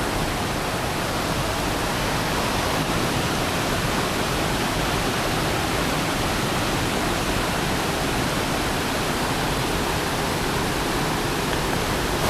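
Loud, constant roar of a flooded village stream rushing after rain, a dense unbroken rush filling the scene with no other sounds.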